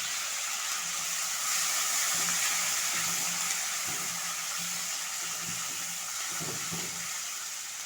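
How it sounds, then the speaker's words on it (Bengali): A handful each of curry leaves and coriander leaves sizzle in hot oil, a steady close frying hiss with occasional soft stirring knocks. "এক মিনিট ভেজে নেওয়ার পর দিয়ে দিচ্ছি 1 মুঠো কারি পাতা এবং 1 মুঠো ধনে পাতা"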